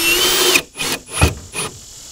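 A power tool drives screws into a plastic rear taillight on a Vanagon, heard as three short bursts of whirring, each rising and stopping abruptly, close and fairly loud with brief pauses between.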